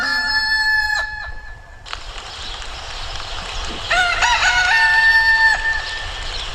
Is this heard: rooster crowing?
yes